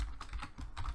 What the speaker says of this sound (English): we're going to type debug.log